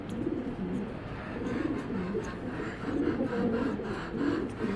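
A racing pigeon coos in a soft, repeated rhythmic burble, steady and fairly close, with no talk over it.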